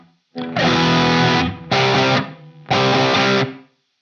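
Crunch-tone electric guitar through a Quad Cortex amp model with a mic-variation cabinet, EQ and room reverb: three loud strummed chord bursts, each ringing out with a reverberant tail and no talking.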